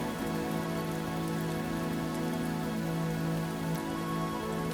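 Rain pours steadily outside, an unbroken wash of drops hitting surfaces, close and constant from start to finish with no other sounds.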